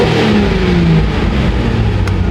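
A 1999 Nissan Skyline R34 GT-R V-spec, tuned to about 530 wheel horsepower, revs loud and close, its engine note rising and falling in a continuous throaty roar.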